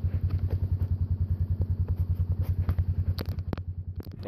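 A vehicle engine idles outdoors in the snow near a cabin, a loud, close, evenly pulsing chug, with a few sharp clicks and clunks toward the end.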